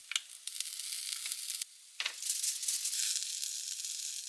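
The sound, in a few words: thin pumpkin slices sizzling in a frying pan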